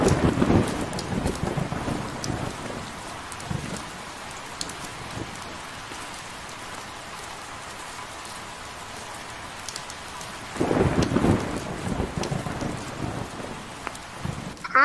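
Steady rainfall pours down during a thunderstorm, with deep rolling thunder swelling near the start and again toward the end over the constant hiss of rain.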